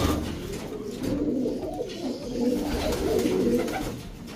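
Several male breeder pigeons coo in a loft section holding only cocks, a steady layered murmur of low rolling calls continuing throughout at moderate loudness.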